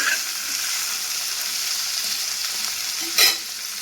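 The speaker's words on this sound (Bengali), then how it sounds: "ভালো করে যতক্ষণ না লাল লাল হবে ততক্ষণ কিন্তু এটাকে ভাজতে হবে।" Tomato frying in a pan for begun sundori, a steady close sizzle with the stirring continuous throughout and a brief louder scrape near the end, no voices.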